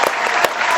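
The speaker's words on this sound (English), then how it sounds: "Let's give a round of applause for my guest co-host" Brief burst of studio applause for a guest co-host, dense clapping filling the short moment at moderate loudness with no voices over it.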